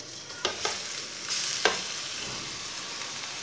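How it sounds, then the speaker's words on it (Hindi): Grated pumpkin frying in hot oil for halwa, stirred with a spoon: a steady close sizzle with a few sharp scrapes and clicks of the spoon against the pan. "अब इसे चम्मच चलाते हुए 5 मिनट तक भून लेंगे"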